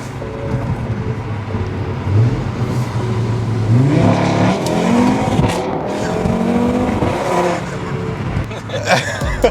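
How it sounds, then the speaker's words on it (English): A tuned Audi RS3 with a brand-new engine accelerates hard using rolling launch control, its engine note rising through loud rising sweeps from inside the car, with voices speaking over it. "Yeah, rolling launch control."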